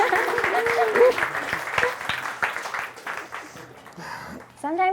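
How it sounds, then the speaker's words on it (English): An open mic audience claps in a short burst of applause mixed with talking and laughter, and a voice speaks over the end. "Claps now."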